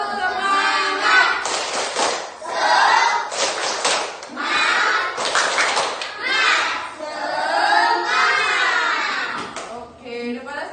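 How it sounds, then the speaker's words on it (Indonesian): Classroom of students doing a tepuk semangat clapping chant, bursts of rhythmic group clapping alternating with children's voices chanting along in a lively pattern. "Oke, coba kita tepuk semangat dulu. 1, 2, 3. Tepuk semangat."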